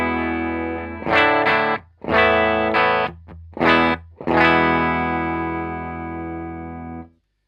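A clean, flat electric guitar tone strums a few chords in short bursts, ending on a long sustained chord that slowly rings out, neither bright nor boomy, heard alone.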